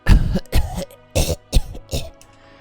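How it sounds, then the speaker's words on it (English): A series of five harsh, forceful coughs in quick succession, close and loud, with short gaps between them, then silence. "I cough violently."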